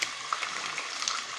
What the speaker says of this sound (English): So that is frying.